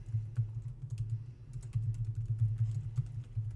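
Someone types on a computer keyboard, filling in a text field in a word processor, producing a steady stream of close, quiet key clicks over a low background hum.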